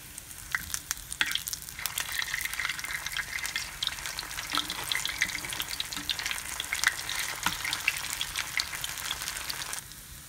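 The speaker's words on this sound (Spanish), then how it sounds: "Los volteo del otro lado para que se terminen de dorar o freír." Vegan orange chicken pieces frying in hot oil give a steady, dense crackling sizzle throughout, with a few spatters and clicks as they are turned, close and continuous without speech.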